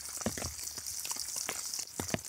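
Rain drips and patters unevenly on a tarp outdoors during a pouring downpour, with scattered close drops over a steady hiss.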